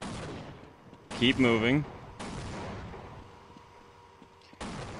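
Gunfire in the Half-Life video game comes in short bursts of loud sharp shots between quieter stretches of background game noise, with a voice briefly speaking over the action.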